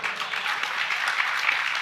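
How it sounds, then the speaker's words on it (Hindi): An audience at a Jain religious discourse breaks into brief, dense applause, a short burst of steady clapping lasting under two seconds with no speech over it. "तालियां बजाओ रे।"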